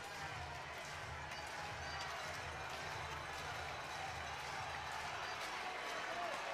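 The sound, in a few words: baseball crowd cheering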